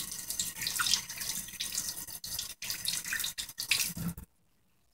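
Tap water runs and splashes over Emson pressure smoker parts being rinsed in a sink, a close, fluctuating gush with brief dips that cuts off near the end.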